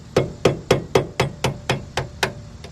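Ten sharp, evenly spaced hammer strikes on metal, each ringing briefly, close and loud in a steady rhythm.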